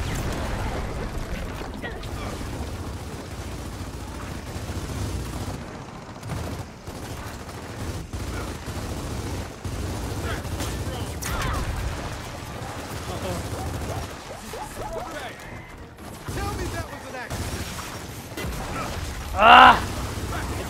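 Explosions and rapid gunfire from a Gears of War 4 combat scene form a dense, continuous rumble of blasts and shots under game chatter, with a sharper burst near the end.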